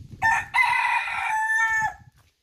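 A single rooster crow from a farmyard in Spain, close and loud, with a short opening note followed by a long drawn-out call that fades out, over quiet low background noise.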